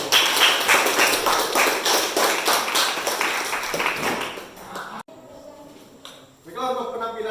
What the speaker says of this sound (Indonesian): Aplaus sekali lagi untuk kelompok